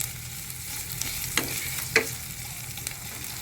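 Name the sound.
frying ingredients in a pan until golden brown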